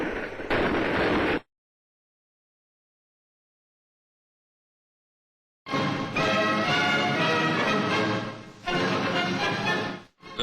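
An FN rifle firing rapidly at the School of Infantry, Warminster, in dense bursts: a short volley, a long silence, then a longer sustained stretch of loud continuous fire that cuts off near the end.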